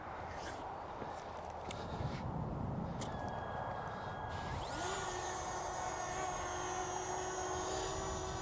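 A Fimi X8 Mini drone lifts off with a rising, steady whine of propellers that climbs in pitch and then holds, set against broad outdoor background noise.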